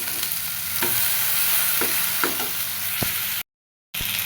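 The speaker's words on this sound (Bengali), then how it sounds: "তেল গরম হইলে ভেন্ডি ভেজে নিব।" Okra frying in hot oil in a wok, a loud continuous sizzle with faint stirring scrapes, briefly cut to silence before resuming.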